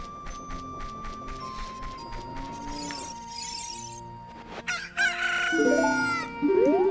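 Chickens in Zelda: Ocarina of Time cluck and a rooster crows amid layered game chimes and music, the calls rising sharply and loudly toward the end with no talking.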